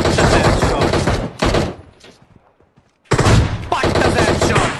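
Loud bursts of rapid gunfire in the PUBG video game, a sustained volley, a quieter gap with scattered softer shots, then another heavy burst, with faint voice underneath.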